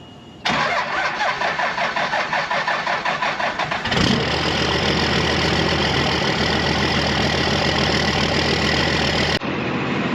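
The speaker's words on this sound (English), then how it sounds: "Let's see if it'll actually crank." A diesel truck engine cranks briefly and catches, settling into a loud, steady idle with a rattly low rumble that runs close and continuous until it drops off abruptly near the end.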